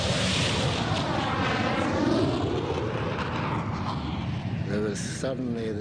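Argentine Air Force attack jets roar overhead under a clear sky, a loud rushing engine sweep with a falling whine as they pass close by, continuous for several seconds.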